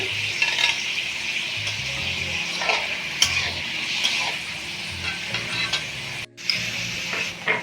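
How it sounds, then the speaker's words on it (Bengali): Chopped capsicum, beans and onion fry in a pan over a medium gas flame for mixed fried rice, a steady close sizzle broken by repeated stirring scrapes, with no voices. "এখন সবজিটাকে আমি গ্যাসটা একটু মিডিয়ামে রেখে ভেজে নেব"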